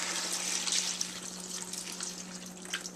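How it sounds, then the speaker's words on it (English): Bean cooking water poured into mashed beans, a continuous bright trickling and splashing stream with a steady low hum underneath, no voices. "I'm just going to pour this in."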